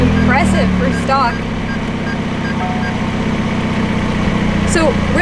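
A McLaren 570S Spider's engine idles with a steady, deep, close rumble, while voices talk over it throughout.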